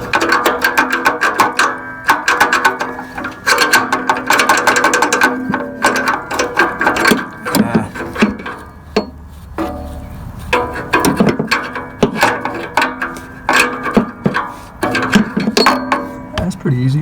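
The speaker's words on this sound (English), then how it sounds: "Let me see if I can get a ratchet on this thing now." A ratchet wrench works loose the oxygen sensor on a Toyota Corolla, making loud, rapid runs of metallic clicking in repeated bursts close by, with brief pauses between strokes.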